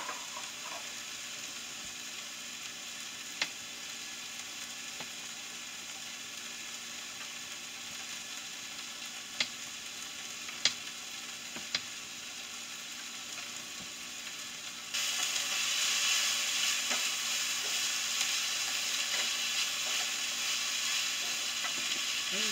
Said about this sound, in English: Just let the onions sweat a little bit